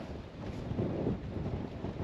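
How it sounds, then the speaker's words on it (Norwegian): Gusty wind buffeting a microphone outdoors by a boat, a low, steady rumble swelling in the middle before easing, with no talk. "Står ennå på meg ganske godt med vind i kastene."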